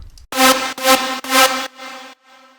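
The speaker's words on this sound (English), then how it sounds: "third one is in Spire" A Spire synth lead preset in EDM drop style, a buzzy, harmonically rich chord repeated in three long, loud swells, followed by quieter sustained echoes fading out. No speech over it.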